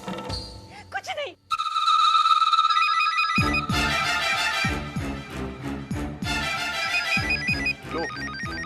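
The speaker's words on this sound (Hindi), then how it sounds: "आ गया तुम्हारी आई का फोन, कर लो बात उनसे।" A telephone rings with an electronic ringtone during a Hindi TV drama scene. The bright melodic pattern repeats loudly and steadily for several seconds after a brief voice and a short pause.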